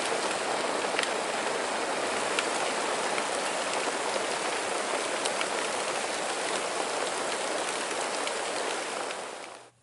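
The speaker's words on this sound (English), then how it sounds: "So we got a little hail out of this puppy." Heavy, wet hail falls on a mountainside in a steady, hissing patter with scattered sharper ticks, continuous and even before cutting off at the end.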